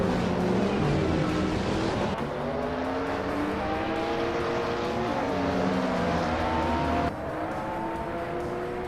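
Race cars, among them a 2011 Peugeot 908 LMP prototype, roar around a track in sustained, loud engine drones whose pitch rises and falls as they accelerate, with no talking.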